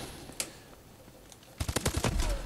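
H-bar Insanity Elite rifle with a silencer firing in Call of Duty Advanced Warfare: one sharp early shot, then a rapid burst of suppressed rounds in quick, even succession.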